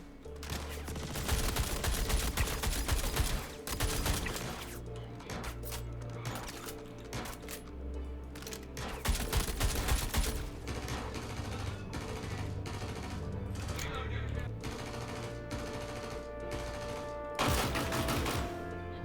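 In a video game, a Pulverizer light machine gun fires in long sustained bursts of rapid shots, with brief pauses between volleys and game effects underneath.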